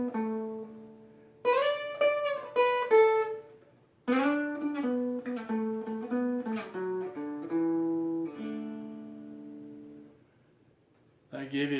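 Shortening Bread picked on a stringed instrument with slides up the melody string and on the bass, then a run down the bass, heard as clear, close plucked notes in phrases with gliding pitches and short pauses.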